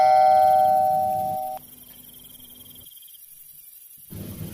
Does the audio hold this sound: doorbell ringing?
yes